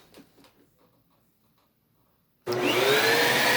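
A 2006 Bissell Healthy Home 5990 vacuum cleaner, brush roller included, switches on after a couple of quiet seconds with faint knocks, then roars loud and steady with a rising whine as the motor spins up close by.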